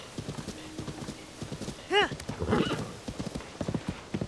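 Horse hooves clip-clop steadily in The Legend of Zelda Tears of the Kingdom, with a short whinny midway, all under ongoing talk.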